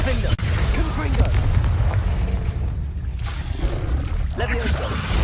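Confringo blasting spells explode in Hogwarts Legacy as a steady stream of loud, rumbling booms with a sharp blast near the start, a brief lull midway, and voices mixed in.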